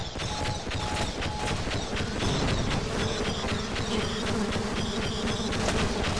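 A bee-firing weapon in Half-Life Sven Co-op sprays a steady, dense buzz of insect swarm sounds with rapid repeated bursts throughout, loud and continuous without talk.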